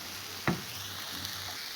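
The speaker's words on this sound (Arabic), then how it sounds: "كنزيدو لواحد شويه ديال المعدنوس ونخليهم كيتشحروا مزيان" Chopped parsley and garlic fry in a pan with a soft, continuous sizzle, broken once by a sharp clack, apparently from a utensil hitting the pan.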